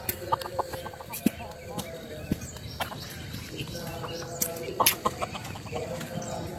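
Native roosters and hens cluck in a rural riverside setting in mid-morning, with repeated short calls and sharp clucks over busy outdoor ambience, moderately close.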